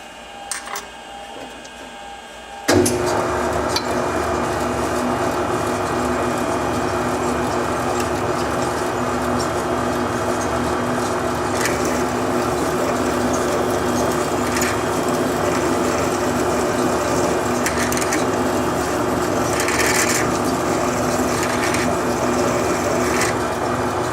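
A drill bores into a metal part for a 3hp IHC M engine mixer build in a workshop, starting abruptly after a quiet moment and then running as a steady, loud mechanical whir for about twenty seconds with no talking.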